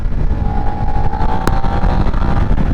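A Suzuki SV650 motorcycle engine drones steadily and loudly while riding, with a sustained rising tone as the rider shifts down and accelerates, and a brief sharp click near the middle.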